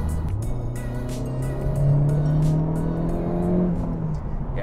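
A 2017 Honda Civic Type R with a 2-liter turbo engine hums and revs while driving, its engine note climbing and holding steady, loud and close, with no talk over it.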